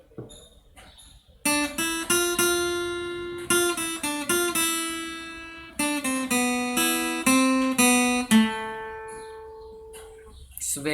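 Single-note lead guitar melody of Bella Ciao, clear picked notes with sustained tones and short gaps, played close and alone without talk after a brief quiet start.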